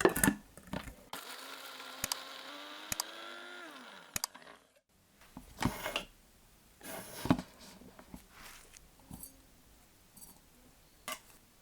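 A blender grinds nuts toward crumbs and paste in short whirring bursts that rise in pitch, then stops, followed by scattered clicks and scraping knocks, all fairly quiet.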